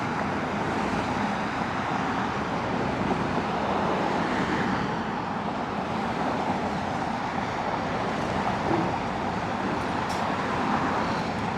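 Stop-and-start highway traffic along West Street in Manhattan, a dense steady roar of passing vehicles at moderate distance with some wind buffeting on the microphone, no talking.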